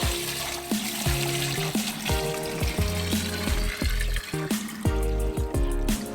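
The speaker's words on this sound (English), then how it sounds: "Now carefully put this in the backpack sprayer." Liquid lawn fertilizer pours into a backpack sprayer tank, a continuous gurgling, glugging stream with bubbly irregular pulses, close and fairly loud, no talking.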